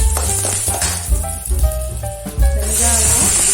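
Curry leaves and dried red chilies dropped into hot oil for beetroot chutney, a loud sputtering sizzle with clinks of a utensil against the pan, fairly close.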